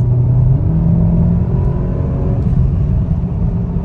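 A VW Golf VII GTI engine rumbles and climbs in pitch under acceleration, with a loud, steady drone from inside the car and no voices.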